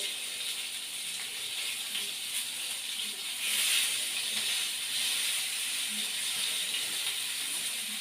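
Steady sizzling hiss of fish frying in hot oil, close and continuous, with faint crackles throughout.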